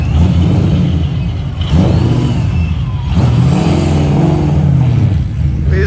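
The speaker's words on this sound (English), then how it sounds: "Got another RX-7 coming through." A Mazda RX-7 rolls through a Father's Day car meet, its engine droning and revving steadily at close range, with the tone rising and falling as it passes.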